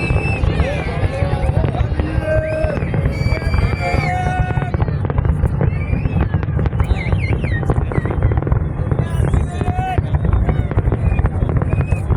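Dense, continuous crackling and booming of New Year fireworks with steady low rumble, people chattering and shouting in the background throughout.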